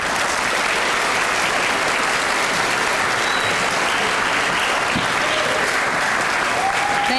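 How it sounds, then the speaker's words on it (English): Steady, loud applause at a Robert E. Lee sixth grade graduation ceremony, a full audience clapping without pause across the whole stretch, with faint voices mixed in. "please give a big round of applause introducing Ms. Blanca Musquiz, Robert E. Lee Principal"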